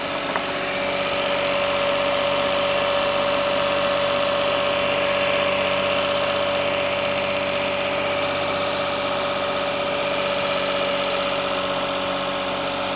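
A Toyota Wigo engine with a faulty purge valve and recurring check engine light runs loud and close, holding a steady, even drone with a constant whine for the whole stretch and no clear rise or fall in pitch.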